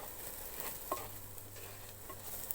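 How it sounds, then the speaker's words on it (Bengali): Cheese pasta being stirred in a pan with butter and salt, a soft scraping of the spoon over a gentle sizzle, with a few light knocks against the pan. "এটা নেড়ে দিচ্ছি।"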